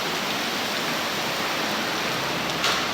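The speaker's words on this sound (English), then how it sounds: "Look like the rain done kicked up hard out there." Heavy rain pouring outside a garage during a Nissan 370Z slave cylinder replacement, a steady, dense hiss of falling water with no breaks, loud and continuous.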